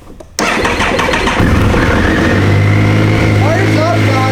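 A Triumph Sprint motorcycle engine cranks and fires up after a brief quiet moment, then settles into a loud, close, steady idle, with someone talking over it.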